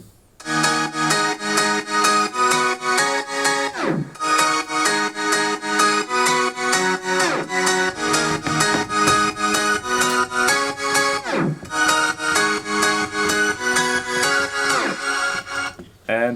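A bright synthesizer melody over sustained chords plays loud and continuous from an electronic dance production, with two abrupt tape-stop pitch drops that slide down before the phrase restarts.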